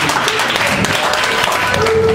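Audience applause at a union election rally for a regional labor federation's leadership candidates, a dense wash of clapping hands sustained throughout at close range, with voices mixed into the crowd.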